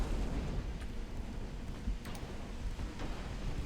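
Battleship main guns fire at a heavy cruiser in a naval video game, heard as deep rumbling booms and bursts layered over a continuous low roar of battle, with a few sharper reports standing out.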